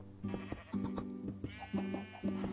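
Sheep bleat repeatedly in the Minecraft video game, about four nasal, wavering bleats in close succession, loud and near with no talking.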